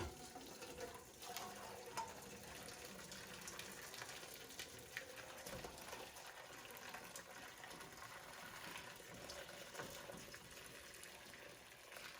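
Homemade vegetable broth is poured steadily from one pot into a new pot, giving a continuous gushing, splashing liquid stream that stays fairly even and close throughout.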